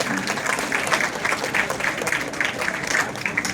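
Audience applause fills an award ceremony hall, dense steady clapping from many hands at close range, continuing without a break.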